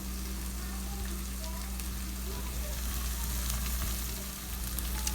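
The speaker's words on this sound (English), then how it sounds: "cook out the liquid real quick and give you a nice little bit of crust on your meat" Carnitas pork meat frying in a pan, a steady loud sizzle and crackle with a constant low hum, close up and continuous without talk.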